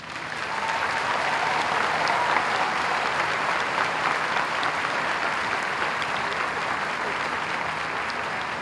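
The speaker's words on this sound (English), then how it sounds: "I would ask that you join me in honoring them with a round of applause" Sustained applause from a large audience at a 2009 high school commencement, a dense even roar of clapping at steady volume throughout with no voices on top.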